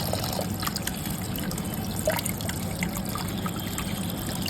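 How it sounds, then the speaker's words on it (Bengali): Tap water trickles and splashes steadily while fish is washed in a home kitchen, a continuous close, even running-water sound throughout with no talking. "তো মাছটা ধোয়া হয়ে গিয়েছে"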